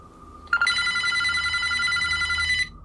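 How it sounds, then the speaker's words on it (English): An old telephone bell rings in one continuous, loud, bright trill lasting about two seconds before it cuts off, with a faint low hum underneath and no one speaking. "Again, the phone doesn't seem to be connected to anything, and yet it continues to ring demonically."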